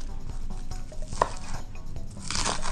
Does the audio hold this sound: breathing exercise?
no